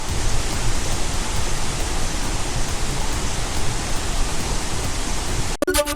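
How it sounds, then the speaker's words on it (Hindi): Water gushes from the opened gates of Ukai dam on the Tapi river in Gujarat after heavy rain, a loud, steady roaring rush that continues unbroken and cuts off abruptly near the end. "उकाई डैम में पानी का प्रेशर बढ़ने की वजह से बांध के कुछ गेट खोलकर पानी निकाला गया"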